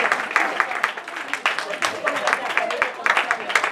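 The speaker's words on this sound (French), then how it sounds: "Je voudrais qu'on acclame la présence d'un homme parmi nous ce matin." A church congregation at a Sunday service applauds with steady, dense clapping from many hands that carries on throughout, while a voice talks over it.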